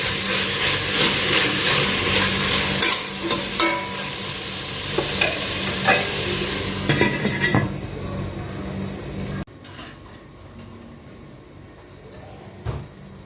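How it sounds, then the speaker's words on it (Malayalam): Tomatoes sauté in a pan for chicken curry with coconut, a close hiss of frying under spatula scrapes and stirring knocks, then a lid clatters and the sizzle drops quieter. "ഇനി നമുക്ക് ഇതിനെ നല്ലപോലെ വഴറ്റിയെടുക്കാം."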